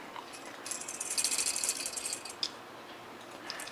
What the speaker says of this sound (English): Now we're going to reinsert the recoil spring and the guide rod